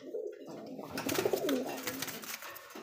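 A pigeon coos softly up close, a short rolling call lasting a couple of seconds against quiet surroundings.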